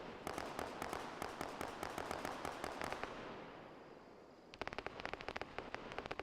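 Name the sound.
heavy gunfire in buildings, from video game Arma 3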